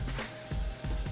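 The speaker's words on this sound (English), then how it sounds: "So I'm gonna stir it" Shredded Mexican-style cheese is stirred into Alfredo sauce in a pan, giving a brief, close, dense sizzle with soft rhythmic scraping from the stirring.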